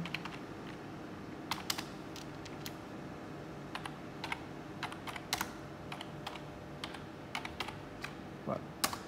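Someone types steadily on a computer keyboard while entering bank account details, with irregular close key clicks and a few louder keystrokes over a faint steady room hum.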